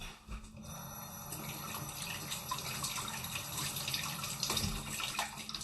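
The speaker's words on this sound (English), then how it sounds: "let me rinse my fingers." Running tap water splashes steadily over fingers at a sink for a few seconds, an even close hiss and patter with no voices.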